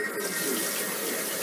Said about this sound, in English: Rinsing these under very hot water.